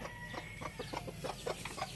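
Chickens cluck in quick, uneven bursts nearby, a few soft calls overlapping against a quiet background.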